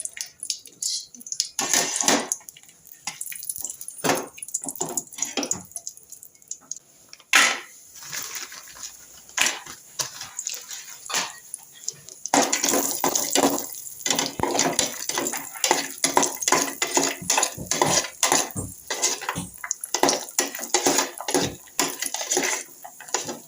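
Cashews fry in melted ghee in a pan for payasam, giving a close, irregular crackle and sizzle. Frequent clinks and scrapes of a spoon stirring against the pan run through it.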